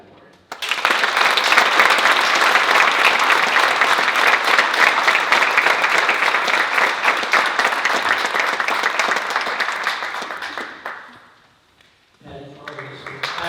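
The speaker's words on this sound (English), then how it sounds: "Please join me in applauding Patricia Garcia for being nominated in the leadership category." Audience at a youth awards ceremony applauds a leadership-category nominee; loud, dense clapping sets in almost at once, holds steady, then fades out near the end, followed by a voice speaking.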